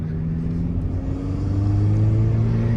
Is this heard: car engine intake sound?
yes